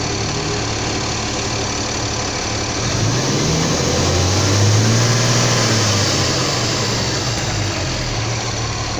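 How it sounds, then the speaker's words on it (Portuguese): A truck engine idles steadily after being restarted, a smooth low rumble that swells slightly in the middle before settling, close and alone without talk. "Eu coloquei o caminhão para funcionar novamente."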